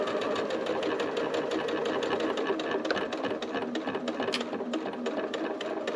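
A sewing machine running a back stitch on a small scrap-fabric coin purse, a steady rapid mechanical whir with a fast needle rhythm, close and continuous, with no talking over it.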